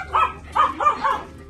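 Pomsky stud dog in a breeder's home, giving about four short barks or yaps in quick succession at close range, with no talk over them.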